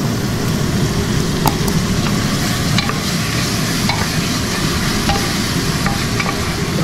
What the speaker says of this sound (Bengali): ডালটা ভেজে তারপর একটু চালটা ভাজবো